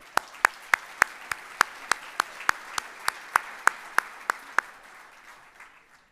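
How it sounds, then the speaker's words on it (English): Crisp, evenly spaced hand claps ring out in a reverberant room at a community awards ceremony, about fifteen sharp slaps in a steady rhythm before fading, sounding like only a few people clapping. "Let us again give an applause."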